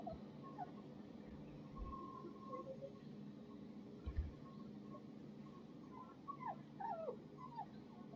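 A dog scared by a storm, whimpering faintly in the distance, with a few thin, wavering whines that grow more frequent toward the end over quiet background noise.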